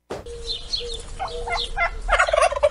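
A turkey gobbles in a rapid, warbling burst that grows louder toward the end, close and clear with no talk over it.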